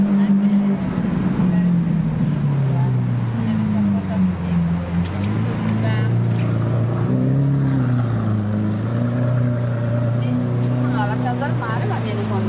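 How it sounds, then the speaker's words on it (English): Lamborghini Aventador fitted with a Capristo decat aftermarket exhaust, a loud, close, deep engine drone that rises and falls with rev changes, sustained throughout with faint voices in the background. "when you put an aftermarket exhaust system on it and decat it, it spits massive flames, but sounds incredible."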